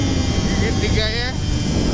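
Kawasaki Ninja RR motorcycle engine roars loudly and continuously at speed in third gear, a dense droning buzz with wind noise up close.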